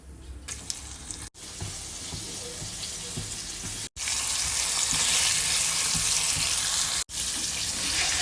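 Steady broadband hiss and crackle of flour-coated chicken frying in hot oil in a pan, loud and close, with brief dropouts in between.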